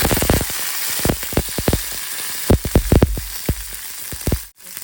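Mustard seeds, cumin and curry leaves sizzle in hot ghee for a Sankranti pongal tempering, giving a steady bright crackle broken by a run of sharp close pops and spits that stop abruptly near the end.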